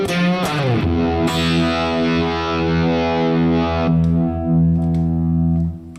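A loud, fuzzy electric guitar chord played through an Octavia fuzz pedal, struck and left to sustain, thick and buzzy with a bright octave edge, then a second hit decaying slowly.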